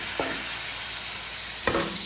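Turmeric and coriander powder are stirred in a wok after water has gone in, giving a low simmering hiss with two distinct spatula scrapes against the pan, no voices.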